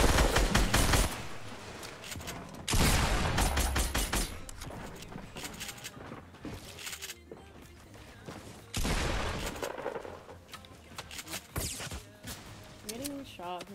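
Gunfire in Fortnite Battle Royale: repeated loud bursts of rapid shots in several volleys, with quieter single shots between and talk underneath.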